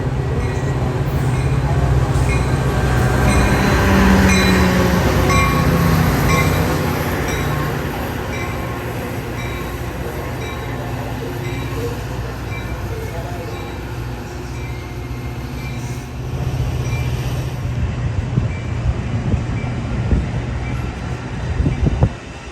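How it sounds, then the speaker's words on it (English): A BNSF commuter train pulls into Downer's Grove station, a loud rumbling rush of rolling cars with rail clatter and faint wheel squeal, easing slightly in intensity before rattling thumps near the end. "BNSF train number 1233 2R is now arriving."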